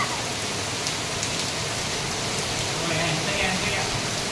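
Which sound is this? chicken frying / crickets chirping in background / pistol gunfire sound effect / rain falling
rain falling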